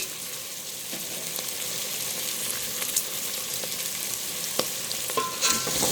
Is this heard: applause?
no